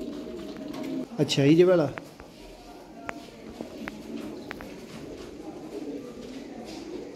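Pet pigeons, including a red pair for sale, give a short burst of throaty cooing near the start, followed by soft rustles and faint clicks, while someone talks nearby.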